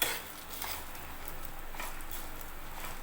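Red chillies roasting in a pan over low heat give a steady, close dry sizzle and rustle, with light scraping from stirring throughout.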